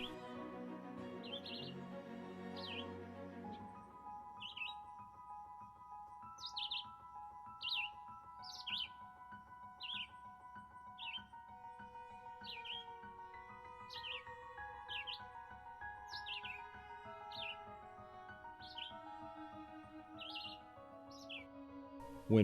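Young Cooper's hawk chicks call with repeated high, thin chirps at a steady pace, set against a sustained musical background with no talking.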